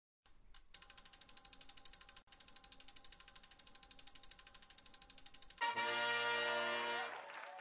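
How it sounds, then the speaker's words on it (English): A spinning prize wheel clicks rapidly and evenly against its pointer for several seconds, then a louder final stretch of dense rattling as it slows, close and alone. "Let's spin the wheel."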